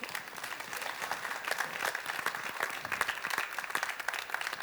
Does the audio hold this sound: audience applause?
yes